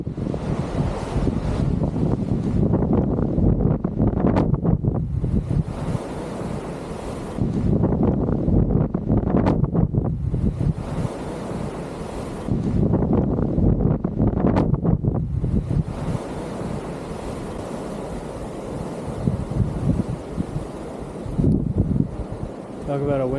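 Strong blizzard wind on Kings Peak buffets the microphone in loud roaring gusts that surge and drop in waves, with brief quieter lulls between blasts.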